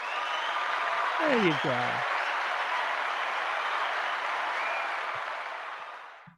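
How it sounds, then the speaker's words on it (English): A canned applause effect triggered from a button fills the clip as steady clapping and crowd noise, tapering off at the end, with someone speaking briefly near the start. "if you wouldn't mind hitting the applause button there"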